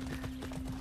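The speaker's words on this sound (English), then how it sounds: "Horse." Horse in the video game Far Cry 6, its hooves clip-clopping in a quick, even trot over a steady low hum, close and continuous for under a second.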